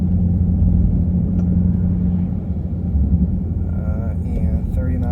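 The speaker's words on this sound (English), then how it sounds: "As a car coming in, so I'm gonna let them pass by." A car approaches and passes on a road during a 30 mph braking-distance tire test, a steady engine-and-tire rumble close by with a voice talking over it.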